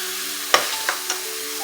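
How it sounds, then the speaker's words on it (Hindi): Chicken frying in a pan for a turnip and chicken curry gives a brief, close hiss of sizzling oil punctuated by three quick clicks of a stirring spoon. "ताकि चिकन जो है साथ अच्छी तरह फ्राई भी हो जाएगा"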